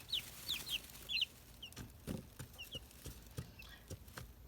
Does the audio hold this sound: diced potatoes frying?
no